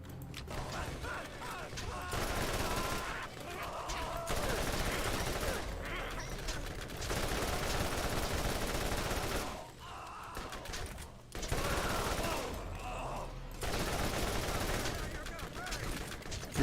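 Rapid bursts of automatic gunfire from a gun in Borderlands 1 run almost continuously, broken by a few short pauses.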